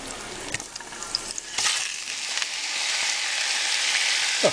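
Sliced meat and mushrooms for stroganoff sizzle in a hot pan, a steady close crackling hiss that builds slightly, with a few scrapes and clinks of stirring and no talking.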